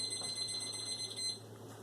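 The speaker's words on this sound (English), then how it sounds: "Okay, the timer is going off." A kitchen timer beeps while broccoli boils and the oven preheats, a thin high electronic tone sounding steadily over a quiet room hum, moderately faint and alone.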